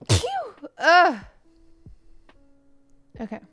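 A single sharp sneeze bursts out close by, followed by a second short vocal burst and a brief spoken word near the end in an otherwise quiet room.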